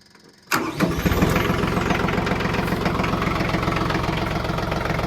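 A small new tractor's engine cranks and catches after a brief quiet moment, then settles into a steady, close, rhythmic idle with no talking.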